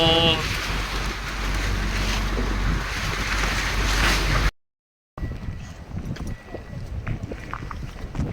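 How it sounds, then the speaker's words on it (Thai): Steady loud rush of wind, rain and snow battering close by, broken by a brief silent cut, then a rougher gusty roar continuing. "ทั้งลมทั้งฝนทั้งหิมะ"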